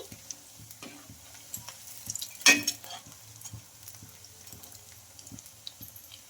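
Poha fritters fry in hot oil, a soft steady sizzle with faint ticking pops and a brief louder stir or splash partway through, close and quiet with no voices.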